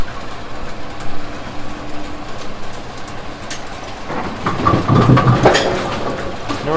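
A Brunswick bowling pinsetter's gearbox and clutch run through a cycle, giving a steady mechanical rumble and rattle that swells into louder clanking and knocking toward the end.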